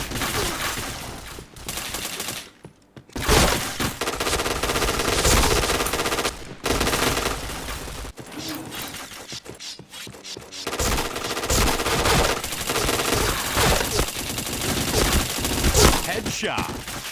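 Rapid automatic gunfire from a shooting video game, bursts of loud machine-gun fire with brief gaps, sustained over a long stretch amid game sounds.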